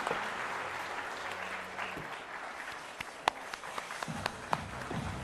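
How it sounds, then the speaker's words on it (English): An audience at a cybercrime conclave in Karnataka claps in a steady wash of applause that thins into scattered individual claps toward the end, heard from some distance. "Can we all give a huge round of applause"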